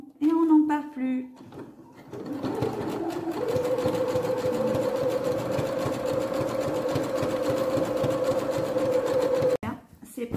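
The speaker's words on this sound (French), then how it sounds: "Moi, je vais faire un point zigzag." Sewing machine running a zigzag overlock stitch along the top edges of a garment, a steady close whirring that holds for several seconds after a brief voice at the start.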